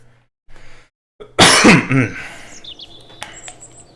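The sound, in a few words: coughing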